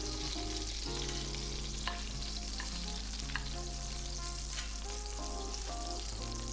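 Beef short ribs sizzle steadily in a Dutch oven while being browned for braising, a constant close frying hiss with occasional louder pops and spatters, no talking.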